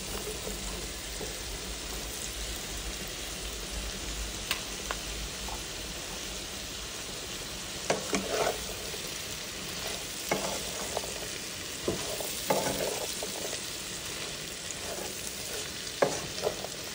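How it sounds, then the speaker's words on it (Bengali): Cut potatoes fry hard in a pan over high heat, giving a steady, close, dense sizzle with scattered spatters and a few louder scraping stirs, with no voices. "এটাকে একদম হাই হিটে ভেজে নিব এই আলুগুলো"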